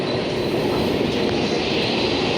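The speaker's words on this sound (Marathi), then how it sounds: "ही आली आमची ट्रेन इकडे" A Mumbai local train arrives at Jogeshwari station, a steady close rumble of wheels and carriages on rails that fills the whole stretch without pause.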